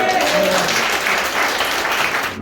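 Steady, loud applause from a church conference crowd fills the whole stretch, a dense wash of clapping with a few voices underneath.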